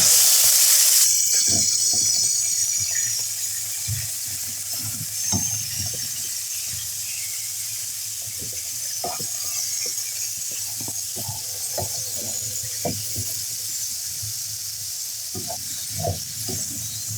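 Chicken sizzles in a spoonful of ghee in a pan, a steady close hiss with scattered pops and spatters, loudest in the first second as the pieces go in, then settling into a continuous crackle.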